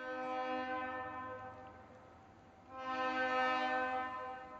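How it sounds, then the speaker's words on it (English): A train horn blares with a steady harmonic chord in two long blasts, the second louder, as a train passes nearby; no talking. "Damn train."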